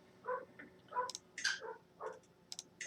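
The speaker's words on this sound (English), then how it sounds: "my dog's out there attacking the mailman or something." A dog barking outdoors at a mailman, several sharp barks spaced across the moment, distant and muffled with quiet gaps between them.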